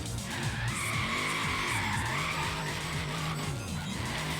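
Tires of a Liberty Walk Hellcat squeal in a long, sustained skid while sliding through a downtown area in Forza Horizon 3, with the engine droning beneath the loud, wavering screech.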